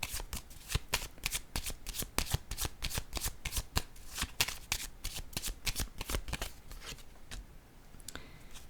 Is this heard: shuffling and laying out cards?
yes